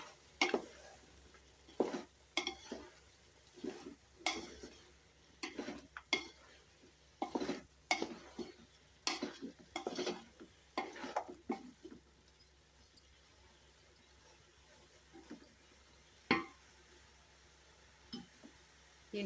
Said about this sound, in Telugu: కొద్దిగా గరం మసాలా, ఒకసారి కలుపుకుందామండి.